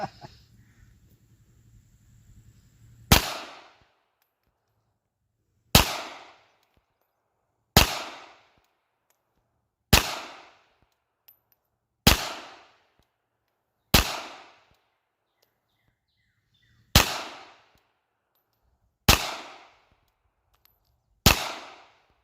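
Ruger LCP Max .380 ACP pistol firing nine sharp, loud shots one at a time, spaced roughly two seconds apart, each crack decaying quickly into near silence before the next.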